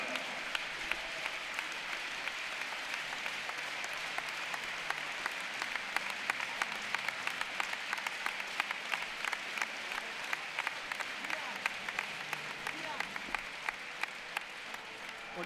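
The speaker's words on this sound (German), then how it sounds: "Und dazu gibt es natürlich Ihren Applaus" Sustained audience applause at a gymnastics World Cup apparatus finals in Cottbus, a steady wash of many hands clapping with crisp individual claps poking out, moderately distant and continuing for the full stretch.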